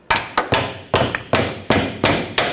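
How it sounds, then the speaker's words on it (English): Seven sharp hammer blows ring out at an uneven pace, metal striking the steering knuckle of a 2014-2020 Nissan Rogue to break loose the ball joint during front control arm replacement; each hit is loud and close with a short ringing decay. "Just give it a tap. And you want to separate the ball joint from the knuckle."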